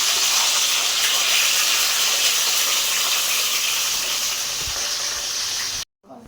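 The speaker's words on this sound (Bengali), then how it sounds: "বেগুনগুলোকে এরকমভাবে ভেজে নেব" Long-slit eggplant slices coated with salt and turmeric sizzle in hot oil, making a steady, loud, dense hiss that runs unbroken and then cuts off abruptly near the end.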